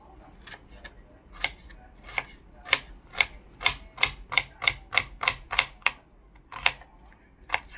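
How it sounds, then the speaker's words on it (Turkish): A knife chops onions on a board in a quick series of sharp, close knocks, speeding into a steady rhythm before pausing. "Bu soğanlarımı da doğrayayım."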